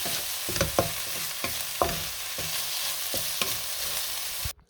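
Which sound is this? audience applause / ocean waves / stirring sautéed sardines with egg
stirring sautéed sardines with egg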